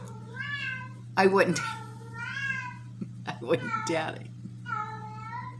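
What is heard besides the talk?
pet cat meowing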